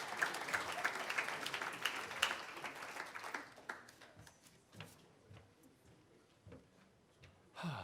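Audience applause at a college athletics hall of fame induction ceremony, a dense, steady clapping that fills the room for about three seconds, then thins into scattered, fading claps with a few late isolated hand claps.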